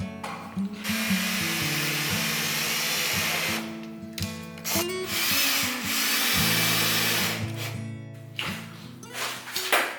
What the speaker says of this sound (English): time to start zipping with the Roto Ripper. This makes your edges perfectly flat.